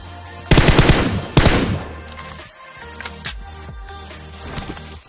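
Gunfire in a battle royale video game: two loud rapid automatic bursts up close, followed by scattered quieter distant shots over a low background rumble, with no talking.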